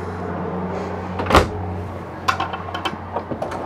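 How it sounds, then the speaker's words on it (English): A dishwasher drawer in an RV chef's kitchen gives one sharp close thud as it shuts, followed by a few lighter clicks and rattles against a low steady hum. "dishwasher drawer"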